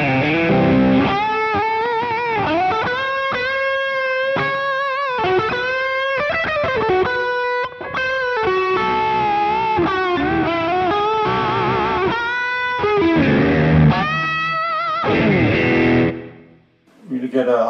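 Electric guitar played through a Rowin Bluesy Overdrive pedal with the gain fully up, a thick distorted hard rock tone of chords and riffs lasting over a quarter minute before fading out, close and unaccompanied.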